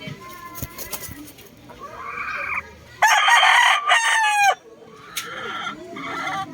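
A Golden Boy fighting rooster crows loudly up close, a long strained call, while someone talks before and after it and other fowl cluck faintly in the background.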